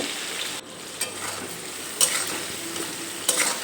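Salted potatoes fry in a pan, producing a continuous soft sizzle broken by a few sharp scrapes and clicks of a spatula stirring against the pan, close and moderately quiet, with no talking.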